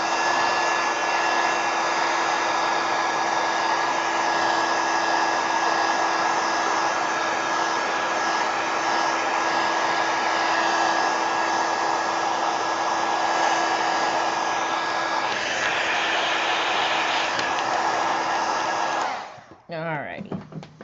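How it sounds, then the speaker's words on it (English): A heat gun blows hot air in a loud, steady, unbroken whoosh close by, holding for about nineteen seconds before cutting off abruptly, with no voices. "Heat gun."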